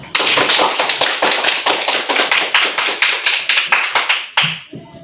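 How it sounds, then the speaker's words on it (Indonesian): A classroom of students claps for a group presentation, a steady run of sharp, fairly close hand claps that drops off abruptly near the end. "berikan tepuk tangan untuk presentasi kelompok 1"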